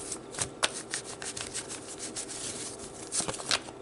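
Romance angel oracle cards are shuffled up close, giving a steady papery riffling and rubbing with a few sharper slaps along the way, and no one speaks.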